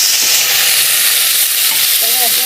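Cauliflower florets sizzle steadily in a pan while being stirred for a Bengali potato-cauliflower curry, a continuous frying hiss with scraping stir sounds throughout and a brief voice-like squeak near the end.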